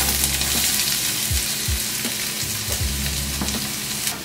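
Onions fry in a pan for a vegan Thai red curry, a loud close sizzle with occasional crackles and a few low thumps, continuing steadily without speech.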